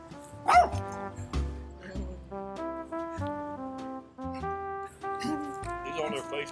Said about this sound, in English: And your attack dog.